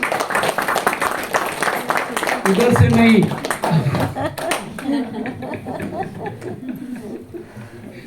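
An audience claps hands at a talk, a short burst of clapping that builds and fades, with someone speaking over it and some chuckling.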